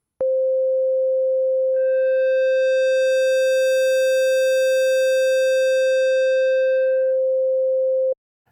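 A basic sine tone run through Wavebox waveshaping distortion: a steady pure pitch that picks up a bright stack of harmonics partway through, holding loud and constant for about eight seconds before cutting off.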